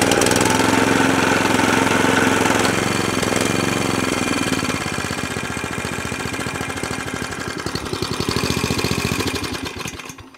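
A Qualcast 35s cylinder mower with a Kawasaki engine runs loud and close with its blades and drive engaged. The engine holds a steady, even note without hunting, and its tone shifts slightly as the cutting cylinder turns.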